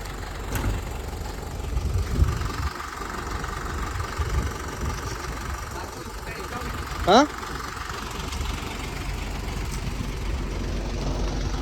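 An empty truck engine idles on a weighbridge with a steady low rumble and faint knocking, holding even throughout with one brief sharp chirp near the middle.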